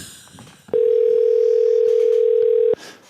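A steady, loud telephone dial tone rings out alone for about two seconds as a call is placed on a morning TV show, with faint studio murmur before and after.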